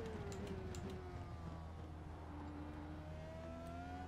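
Race car engine in the iRacing sim, a constant loud drone whose pitch falls and climbs through gear changes and corners, with no talking.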